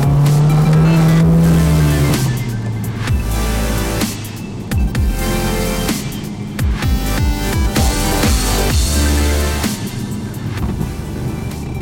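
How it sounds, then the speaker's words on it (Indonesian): A 2014 Mercedes-Benz A45 AMG revs and accelerates hard, its engine note rising and falling with gear changes, while loud exhaust pops and crackles burst out between pulls. The car is close and loud, with no talking. "Suka banget gue sama ledakan knalpotnya."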